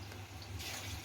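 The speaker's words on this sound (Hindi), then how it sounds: "मैं इसमें पानी डाल रहा हूँ।" Water poured into a cooking pot while making fish sinigang, a soft, steady rushing of liquid that stays faint throughout.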